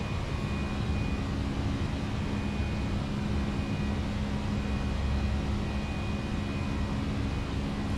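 Airliner engines drone steadily as the plane climbs after takeoff in Microsoft Flight Simulator 2024, a constant broad roar and whine at an even level with no talking.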